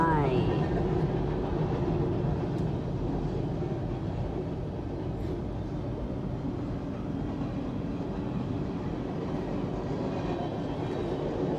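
A train rolls past at steady volume, its rumble and wheel noise continuing for the whole stretch while a voice speaks faintly over it.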